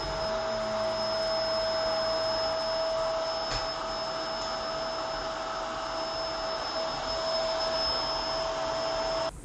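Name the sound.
Bissell 2998 vacuum cleaner running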